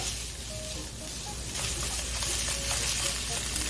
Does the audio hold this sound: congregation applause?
no